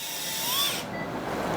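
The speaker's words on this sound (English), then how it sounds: "So you see caudal drilling also we do by the diamond drilling." A diamond drill grinding bone during endoscopic lumbar spine surgery for two-level canal stenosis, a steady high whine with a brief rising tone, then a duller continuous burr, close and alone.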